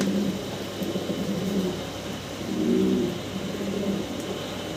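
A pair of Mundian fancy pigeons coos softly at close range, low murmuring calls that rise and swell in the middle, over a steady background hum.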